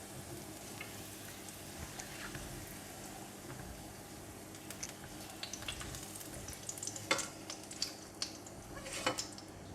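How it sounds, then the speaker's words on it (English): Garlic fries and sizzles in hot oil in a pan while being stirred, giving a steady low crackle with light scraping and clinks from the stirring utensil, heard close and without talk. "give it a stir until fragrant, brown and crispy"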